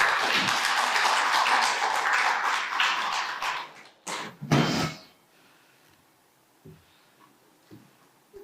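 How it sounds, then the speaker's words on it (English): An audience claps in welcome as speakers come onto the stage at a conference's opening session. A dense burst of applause fills the first four seconds, then a few louder claps or thumps follow before the room goes nearly quiet. "Ladies and gentlemen, please help me welcome them with a round of applause"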